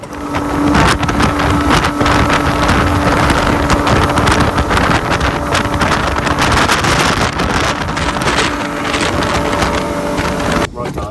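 An 8.5m RIB powered by a new Yamaha 300HP V6 outboard runs at speed along Shakedown Sands, its engine a loud, continuous roar mixed with heavy wind buffeting on the microphone and water rush, steady throughout.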